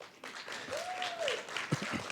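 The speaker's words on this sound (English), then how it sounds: "So can we have a huge round of applause for yourself?" Round of applause from a conference audience at WordCamp Asia 2024, a steady wash of many hands through the room, with a brief whistle-like tone and a few louder claps standing out near the end.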